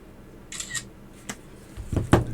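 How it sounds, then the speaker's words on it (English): Camera shutter clicks, a couple of short sharp snaps spaced apart, close and fairly quiet, followed by a soft handling thump, during the disassembly of a 1950s Zenith Automatic 133.8 bumper watch movement. "I just need to take another picture"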